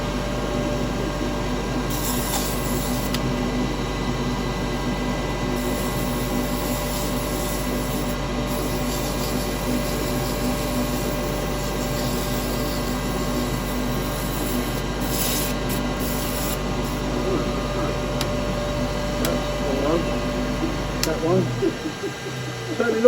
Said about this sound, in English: Stopping the lathe first.